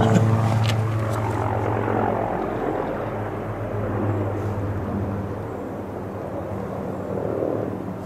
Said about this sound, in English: Is that a helicopter behind me?